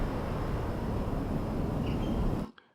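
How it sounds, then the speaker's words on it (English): Wind in the pines is played as a sound effect: steady, dense rushing noise at constant strength, like a wind through trees, which cuts off abruptly to near silence at the very end. "I'm going to take the wind in the pines here"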